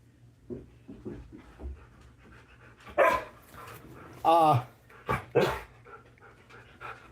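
A dog barks a few loud, close times in a home, with panting and small whimpers in between, while people talk nearby.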